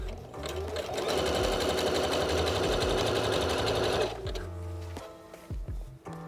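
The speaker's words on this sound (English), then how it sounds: "I'm just sewing near the top edge of the elastic" A sewing machine stitches along the top edge of elastic in a fast, even mechanical whir that runs for about four seconds, then stops and leaves faint clicks and handling noises.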